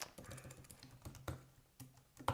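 Typing on an old Apple Bluetooth keyboard, with quick irregular key clacks and a few heavier thumps spaced through the stretch, close and fairly soft, with no talking.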